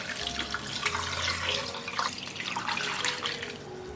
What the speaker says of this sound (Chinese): 最后加入适量清水。